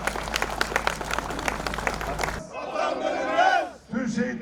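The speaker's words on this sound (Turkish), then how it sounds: "Coşkuyla alkışlıyoruz." Crowd at a Yörük keşkek festival applauds and cheers for about two seconds, dense and close, before the clapping gives way to someone speaking over a loudspeaker.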